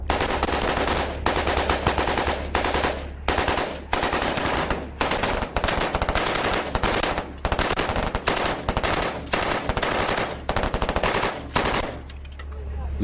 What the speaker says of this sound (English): followed by machine guns and mortars